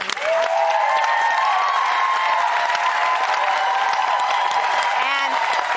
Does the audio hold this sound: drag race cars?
no